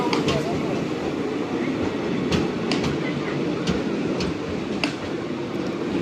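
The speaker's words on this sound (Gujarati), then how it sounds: "જબલપુર મેન લાઇનમાંથી પાસ થ્રુ જવાની છે।" The Jabalpur express runs through on the main line past a station where a local train waits, a loud continuous rumble with repeated clickety-clack wheel beats across the rail joints.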